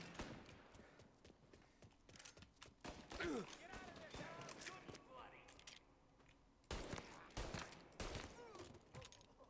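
Gunfire in the 1930s gangster game Mafia Definitive Edition comes in sharp, clustered bursts of shots, some near and loud, others scattered across a noisy firefight. Voices can be heard throughout.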